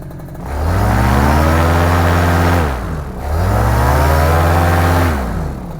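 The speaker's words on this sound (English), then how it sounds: "I was just making sure it revved up." A paramotor engine on a Sky Cima Power unit revs up loudly twice, each time rising to a strong buzzing roar, holding, then dropping back down before climbing again.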